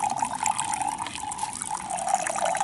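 Clear filtered water poured into drinking bottles at a riverside campsite near Nuremberg, a steady trickling fill with a gurgle rising in pitch, close and continuous.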